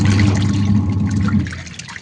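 Tap water runs and splashes while a pet rabbit is bathed at home, a close, steady pouring and trickling that fades slightly toward the end, with no voices.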